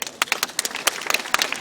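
Applause for Beck György at a Budapest event, a small audience clapping in a loose, uneven patter of sharp claps with irregular bursts, close by and fairly light, with no talking.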